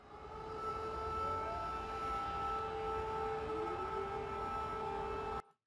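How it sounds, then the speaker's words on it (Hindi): An air raid siren wails in Ukraine, a sustained loud tone that slowly glides in pitch over several seconds before cutting off abruptly. "ये सायरन बजा, आपने सुना।"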